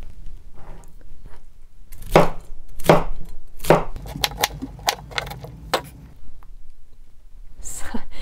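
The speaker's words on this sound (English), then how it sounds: "we're going to chop up all these vegetables" A knife chops vegetables on a board, starting with a few heavy, spaced strikes and then quickening into rapid, crisp cuts before trailing off, all close and clear.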